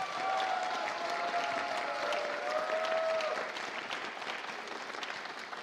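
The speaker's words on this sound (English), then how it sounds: "let's stand up and get a round of applause" Audience applause for eighth-grade students at a school choir and jazz band concert, steady dense clapping from a large crowd sustained throughout, with a faint tonal whistle or feedback line partway through.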